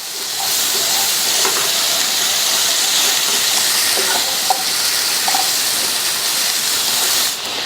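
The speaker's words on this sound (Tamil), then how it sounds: "இப்ப ஒரு 3 நிமிஷம் ஹை ஃபிளேம்லயே வச்சு வதக்கிட்டு இருக்கோம்" Cauliflower frying in masala over a high flame, a steady loud sizzling hiss that holds evenly for several seconds with occasional small pops, then cuts off sharply at the end.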